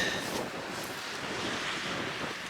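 Wind blows at a coastal campsite, a steady broadband rush with a faint surf-like wash underneath, buffeting the microphone continuously, loud and close with no talking.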